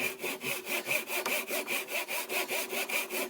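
Hand saw cutting through wood from trees for a gate, a steady rhythmic back-and-forth rasp of about fifteen strokes, close and clear with no talking.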